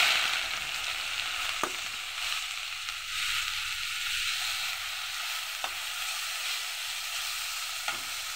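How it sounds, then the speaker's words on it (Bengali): Chopped onions fry in hot oil in a pan for a fish bhuna. A steady, close sizzle runs throughout, with a few sharp clicks from stirring and no voices. "পেঁয়াজটাকে খুব ভালো করে আমি ভেজে নেব।"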